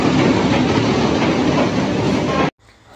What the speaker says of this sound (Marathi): इतक्या जवळून ती ट्रेन जाते, रस्त्यावरती लोक उभी असतात, ट्रेन आली की साईडला सगळं घेऊन जातात.